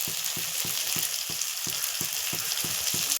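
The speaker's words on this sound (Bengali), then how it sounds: "মাংসটা দিয়ে দিয়েছি, দিয়ে ভালো করে মশলার সাথে মিক্স করে নিয়েছি" Meat stirred into fried spice paste in a pan, a steady loud sizzle throughout with regular scraping strokes of the spoon about three per second, no talking.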